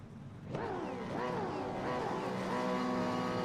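V8 Supercars race engines rev up at the start of a championship race, a loud continuous roar with rising and falling engine pitch from a pack of cars, beginning abruptly and holding steady.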